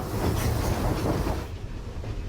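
Cévennes steam train running along its line at a limited 30 km/h, a close, steady rumble of wheels and carriage clatter that softens slightly near the end, with no voices.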